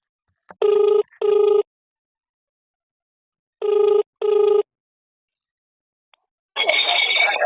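A telephone rings during a prank call, two quick double rings separated by a pause, loud and close, followed by a voice answering.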